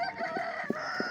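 Chickens cluck in short bursts over a busy background murmur at a poultry market in Sungurlu, Çorum, Turkey, a few soft clucks scattered through the moment.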